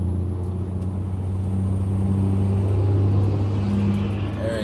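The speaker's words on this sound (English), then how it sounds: "Big old Cummins. Gotta be loud if you can't be fast or useful." A Cummins diesel truck engine rumbles with a steady low drone at close range, holding an even loudness with a faint rise in the middle, alone without voices.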